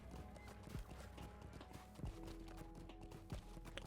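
A white steed's hooves clip-clop in The Lord of the Rings Online, a few faint, evenly spaced hoofbeats under a low background drone and music.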